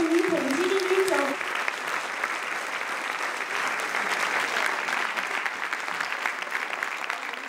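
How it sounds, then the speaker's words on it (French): A live audience breaks into sustained applause for former tennis player Marion Bartoli at a charity event, steady clapping lasting several seconds while a voice briefly speaks over the start. "on peut l'applaudir, Marion Bartoli"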